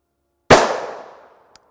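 A single loud gunshot is fired at soft body armor in a ballistic test, a sharp close blast with a reverberant tail fading over about a second, followed by a faint click.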